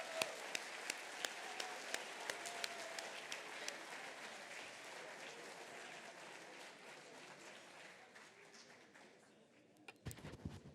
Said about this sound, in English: let's start with a round of applause for the class of 2024